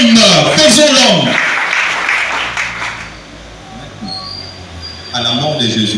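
A church congregation bursts into applause, loud and dense at first, then fading to a thinner patter with speech over it before clapping swells again near the end.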